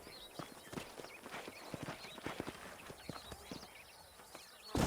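Horse hooves in Red Dead Redemption clop unevenly and close by, a scattered series of sharp thuds over a quiet outdoor ambience, with a louder burst at the end.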